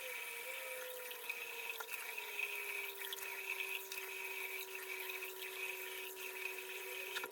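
Water runs steadily from a tap while a face is rinsed, giving a constant soft hiss with faint splashes and no voices over it.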